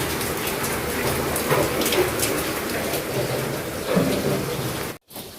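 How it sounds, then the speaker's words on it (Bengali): Heavy rain pours in a steady, loud, dense hiss of drops, unbroken except for a brief cut near the end. "খুব জোর এলো, খুব জোর বৃষ্টি এলো।"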